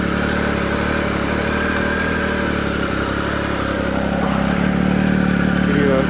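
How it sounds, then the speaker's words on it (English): A 2019 Triumph Speed Triple RS motorcycle with a 1050 engine runs steadily in neutral with an even idle drone, near and loud throughout. "So this is a 2019 model Speed Triple RS 1050 engine."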